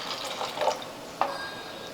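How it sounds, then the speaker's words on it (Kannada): Water is poured into a pot of raw peanut curry, with a couple of soft splashes and trickles close by, faint and brief over a quiet kitchen background. "ಈಗ ಇದಕ್ಕೆ ಇನ್ನೊಂದು ಸ್ವಲ್ಪ ನೀರು ಹಾಕ್ಕೋತೀನಿ ನೋಡಿರಿ."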